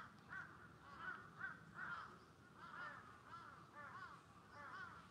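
Crows cawing repeatedly in Tokyo's Yoyogi Park among sakura trees, a steady series of harsh calls at moderate distance over low outdoor background noise.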